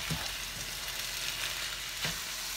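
Sausage and bacon sizzle steadily in a frying pan for a meatloaf casserole, a dense continuous hiss with a couple of soft stirring scrapes, close and alone without talk.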